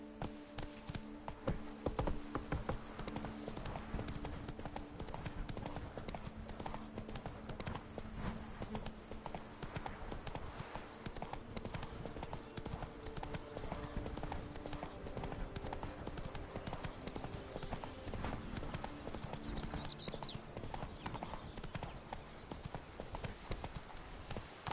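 Roach, the horse from The Witcher 3 video game, gallops continuously, a fast steady drumming of hooves sustained throughout over game ambience and music.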